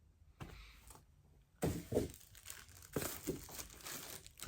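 Tissue paper crinkles and rustles as a newly arrived gift is unwrapped, starting faintly, then becoming louder, busy crackling with sharp bursts close by, alone without talk.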